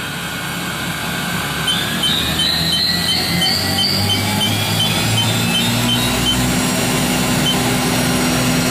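Spindle of a 2007 Haas VF 5XT CNC machine running at 2,500 RPM: a steady mechanical hum with thin whining tones and a faint rising whistle, continuous and close.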